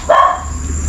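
A single short dog bark or yip rings out near a cemetery at night, followed by a steady hum and faint background noise, with no talking during the sound.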